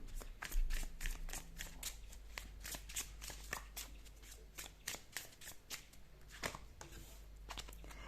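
Tarot cards riffle and shuffle in steady rapid bursts, close and continuous, with a low steady hum underneath.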